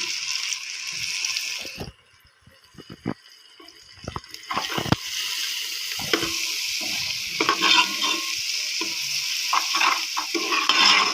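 Spices frying in a pan for a potato and carrot curry, stirred with a spoon: sizzling hiss broken by repeated scraping and clattering strokes, close and fairly loud, briefly dropping quiet before resuming.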